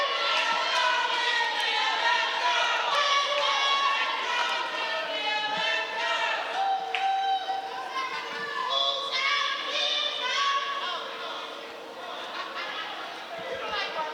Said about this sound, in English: you can hear the kids cheering each other on